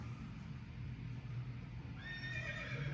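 A horse mount in World of Warcraft neighs and whinnies over a steady low hum, with clopping hooves suggested, moderately quiet with no speech.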